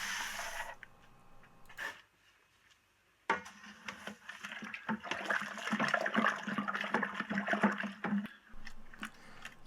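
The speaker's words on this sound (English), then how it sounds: "here I am stirring up the last bit of grain that's already gone in" Grain being stirred into strike water in a Grainfather brewing system while mashing a Christmas ale, giving a wet sloshing and scraping churn that starts after a brief lull and carries on steadily at close range.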